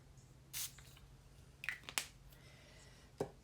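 A few short hissing sprays of paint from a spray bottle onto canvas, quiet and spaced apart over a faint background hum.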